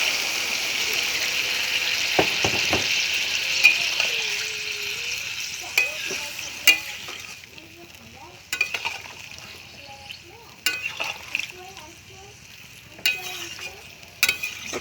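Boiled potatoes sizzle and fry in a pan, with a few clinks and stirring scrapes as a little water goes in; the sizzle runs steadily throughout, with sharp bursts now and then.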